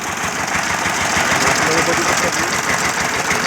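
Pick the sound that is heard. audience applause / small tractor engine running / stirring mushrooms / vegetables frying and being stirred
small tractor engine running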